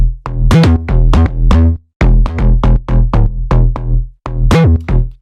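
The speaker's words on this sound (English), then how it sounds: "This is bass dampened low, and this is a really, really great preset." A SynthMaster One bass preset called bass dampened low plays a deep house drop: punchy, heavily low bass stabs in a bouncing rhythmic pattern, loud and upfront, with brief gaps between phrases and no voices.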